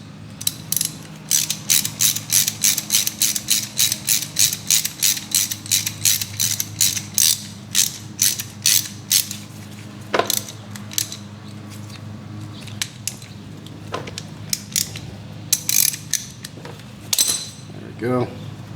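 A ratchet tightens the brake caliper pin on a 2000 Kawasaki KX125 dirt bike, a long run of close, rhythmic pawl clicks, then scattered slower clicks and handling noises with a voice talking now and then.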